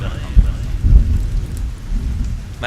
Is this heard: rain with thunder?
yes